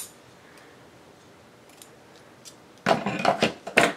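Pinking shears with slightly dull blades cut through fabric in a quick cluster of loud, close metallic snips after a near-silent stretch.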